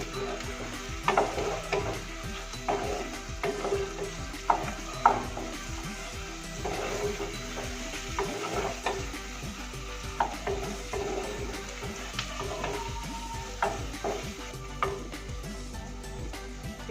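Tomato fries in oil in a clay pot for chicken sukka, a steady soft sizzle broken by repeated spoon stirs and scrapes against the pot.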